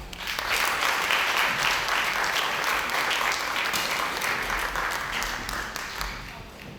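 Sustained audience applause fills the room at a women's slam poetry competition at the Centre Nelson Mandela, a dense, loud wash of clapping lasting several seconds before slowly easing off.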